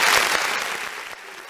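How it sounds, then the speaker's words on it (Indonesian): Brief burst of crowd applause for team Ecofloresta at an ideathon pitch session, loud and dense at first and thinning out quickly. "Tepuk tangan sekali lagi untuk tim Ecofloresta."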